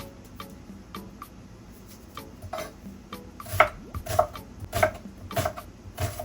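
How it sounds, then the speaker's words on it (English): A knife slicing food into thin pieces on a cutting board, a series of crisp close taps that grow more distinct and rhythmic in the second half, about one chop every half second. "I'm going to go ahead and cut them in little slices"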